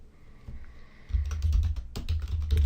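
Typing on a computer keyboard to enter text into a design canvas, with rapid irregular key clicks that start after a quiet second and continue steadily, close and moderately loud with a low thumping undertone.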